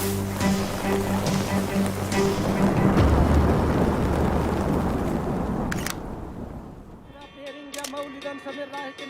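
Grape-sized hail pelts down in a forest, a dense hissing clatter that swells and then thins out, with brief sharper knocks and a voice-like tonal sound in the last few seconds.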